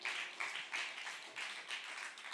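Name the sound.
congregation applauding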